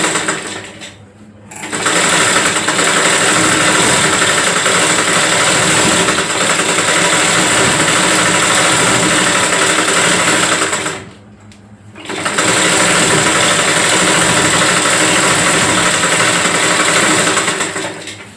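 A sewing machine stitches a blouse seam with a loud, continuous whirring run, stopping briefly twice before starting again.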